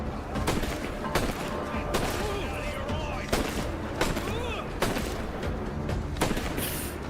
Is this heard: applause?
no